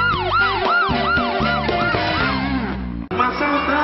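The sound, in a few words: siren announcing the Blitz Bom Demais segment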